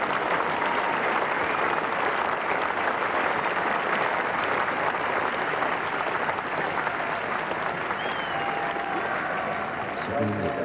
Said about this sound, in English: That's applause for that single because it brings up the 250.